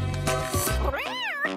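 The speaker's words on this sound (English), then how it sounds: "Oh, look, it's a cute little kitty cat." A cat meows close up, a short rising-and-falling cry after some softer chirps, clear and fairly loud with no talking.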